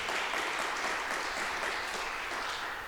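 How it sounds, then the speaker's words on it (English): An audience at a jazz vespers service in a church applauds Malcolm, a dense, steady clapping that fills the room and slowly tapers toward the end. "give Malcolm a round of applause in the back"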